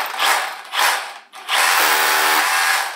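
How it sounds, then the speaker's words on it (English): A concrete drill bores shallow marking holes for a greenhouse trellis wall, whirring loudly in three close bursts with a brief pause before a longer sustained run. "I've got 3 holes pre-drilled here. 1, 2, 3 at the bottom using the concrete drill, and I'm just going to make some marks with it right now."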